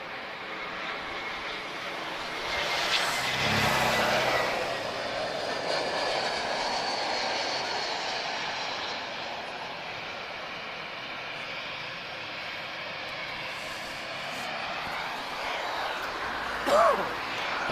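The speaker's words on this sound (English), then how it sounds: "This is yet another different series of engines. V2533 engines." An arriving Airbus with V2533 engines, landing from Paris Orly at Lisbon Airport, makes a broad steady jet roar that swells near the start and holds at a moderate distance for about eighteen seconds.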